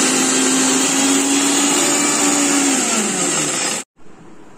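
Mixer grinder whirring loudly as it grinds gram dal, rock salt and jeera powder for green chutney, a steady high-pitched roar whose motor pitch sags slightly before cutting off abruptly near the end.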